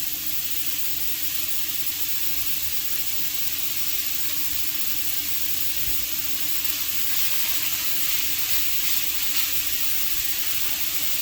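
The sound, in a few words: ground meat simmering in a pan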